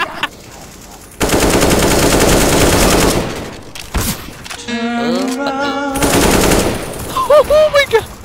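Automatic gunfire in CS:GO rattles out in long, loud sustained bursts, broken by short gaps. Shouting players and in-game voice chatter overlap the shooting, and a few sharp chirps sound near the end.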